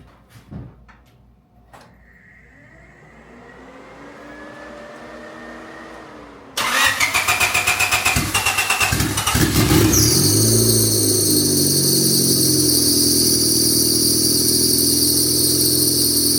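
A turbocharged, lowered Honda Civic engine cranks briefly and then catches, settling into a loud, rough idle with a sharp high-pitched whine layered over the rumble, all recorded close up.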